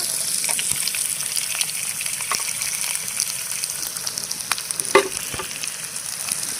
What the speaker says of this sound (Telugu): ఉల్లిపాయలు కూడా మనకి గోల్డెన్ బ్రౌన్ కలర్ వచ్చేంత వరకు వేగాలండి బాగా